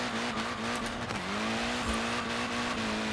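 In Forza Horizon 4, a car tuned for wheelies with wide sticky front tyres drives with a steady engine drone, its pitch shifting briefly as it changes speed, alongside light tyre noise.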